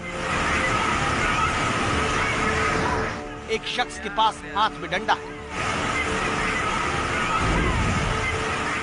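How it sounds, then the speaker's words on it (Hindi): Floodwater rushes at full force near a collapsed bridge in India, a loud, continuous broadband roar. A voice talks over it in the middle section, where the water noise drops back. "पूरे वेग के साथ पानी बह रहा है।"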